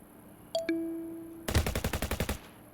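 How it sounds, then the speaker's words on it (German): Gunfire in Internet Cafe Simulator 2: two sharp tonal blips, then a rapid burst of about ten evenly spaced shots, loud and close, with no talking. "Das wird wieder fröhlich geschossen."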